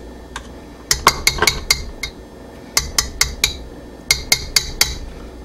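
A utensil blends blueberry coffee cake batter with sour cream in a bowl, giving sharp metallic clinks against the bowl in three quick rhythmic bursts of four or five strikes, close and fairly loud.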